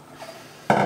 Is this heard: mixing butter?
yes